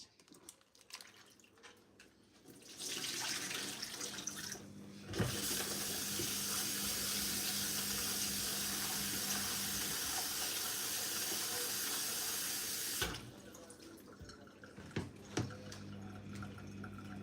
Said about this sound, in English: Make sure you give a nice wash to this